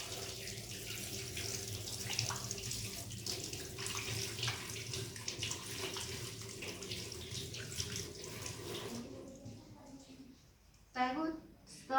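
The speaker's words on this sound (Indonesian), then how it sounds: "Setelah itu basuh tangan." Tap water runs steadily into a sink during handwashing, a continuous close splashing that fades out near the end, with a voice speaking over it.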